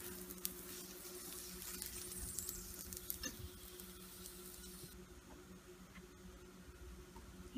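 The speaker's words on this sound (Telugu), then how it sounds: "ఇలా అన్ని బొబ్బట్లు వేయించుకోవాలి." Bobbatlu (puran poli) fry in ghee with a faint, steady sizzle and soft crackle that continues without a break. A few light clicks and scrapes sound close by.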